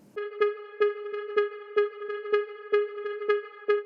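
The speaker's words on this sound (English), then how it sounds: "we have this ARP sound" A repeated synth note from a slap house sample pack pulses in an even rhythm, nine bright percussive hits on the same pitch with a ringing, horn-like tone, up close and without other sounds.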